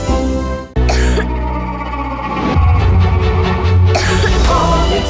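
A person coughs several times in harsh, close bursts, with brief pauses between them.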